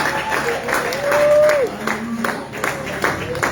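A church congregation at a pastors' ordination service claps and cheers to acclaim the Lord, with loud applause mixed with crowd voices and a drawn-out vocal cry.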